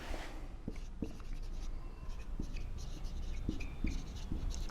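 Pen or marker writing location names onto a map or board, a run of short scratchy strokes with small taps, close and steady throughout, with no voice.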